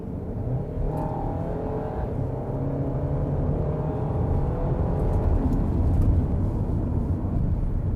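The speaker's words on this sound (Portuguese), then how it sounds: "E olha o tanto que esse carro acelera." RAM Rampage Rebel 2.0 pickup truck accelerating hard in Sport mode, a steady engine drone and road roar rising in intensity, heard from inside the cabin.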